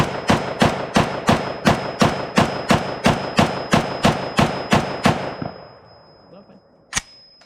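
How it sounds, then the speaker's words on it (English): SIG SG553 rifle fired in a rapid string of about fifteen evenly spaced loud, sharp shots, the reports trailing off into a fading echo, then one more single crack after a pause. "let's shoot the 553"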